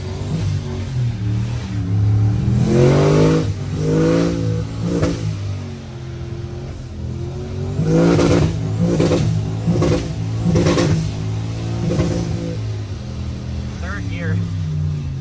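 A car engine revs hard while the wheels spin without traction, rising and falling in loud repeated surges; a voice talks over the revving throughout.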